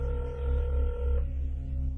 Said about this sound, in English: So she grabbed her own phone and she made a few calls.